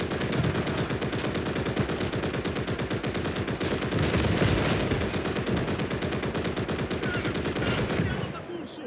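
Sustained machine gun fire in the World War II game Call to Arms: Gates of Hell, rapid and continuous bursts close and loud for nearly nine seconds, dense with overlapping shots before tapering off at the very end.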